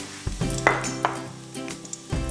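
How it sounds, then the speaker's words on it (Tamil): Whole spices sizzling in hot oil in a pan for paneer pulao, with a few clinks of a stirring spoon against the metal, loud and close. "இப்போ எண்ணெய் காஞ்சிருச்சு. நம்ம எல்லா மசாலா ஐட்டமும் போட்டுடலாம்."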